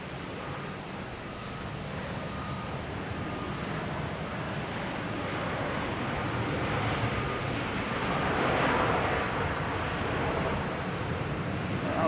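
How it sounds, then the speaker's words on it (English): Delta Boeing 737-800 arriving from Cancun, landing on runway 4 Left at Boston Logan Airport: a steady, broad jet roar that holds strongly throughout and swells slightly near the end as the aircraft passes close by. "a Delta coming in from Cancun, a 737-800 coming in on 4 left"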